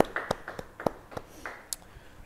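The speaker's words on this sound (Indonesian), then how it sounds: "Yang percaya, beri tepuk tangan bagi dia." A few people at a church Bible study clap sparsely, about a dozen distinct, uneven hand claps close by, with faint voices in the room.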